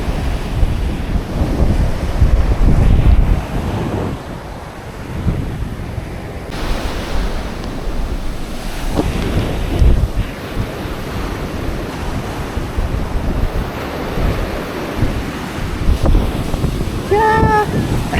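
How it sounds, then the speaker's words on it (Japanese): Rough ocean surf rolls and crashes steadily on a beach on a windy day, blended with heavy wind buffeting the microphone; faint voices come through briefly. "今日風強いからちょっと波が荒いかも"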